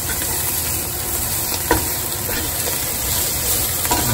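Onions for French onion soup fry in a pan, a steady close sizzle and hiss broken by a few soft scrapes and clicks of stirring, with no talking.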